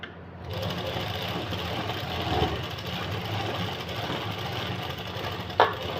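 A sewing machine runs steadily and close while stitching a printed suit shirt, a continuous even whir with a faint click near the end and no talking.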